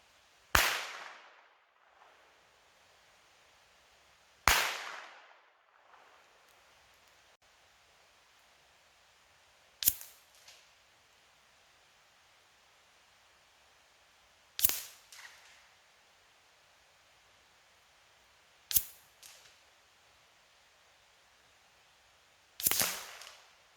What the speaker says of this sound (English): what it sounds like 100 yards away, 2 standard velocity unsuppressed, followed by 4 subsonics suppressed